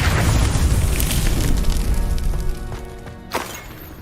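A Confringo fire spell explodes in the video game Hogwarts Legacy, giving a loud booming burst that fades, followed by a short sharp pop near the end.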